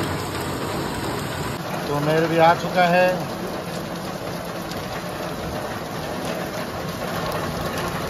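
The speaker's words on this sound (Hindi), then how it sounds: "बहुत तेज बारिश हो रही है" A sudden heavy downpour gives a steady, dense rain hiss across the whole stretch, with people talking over it.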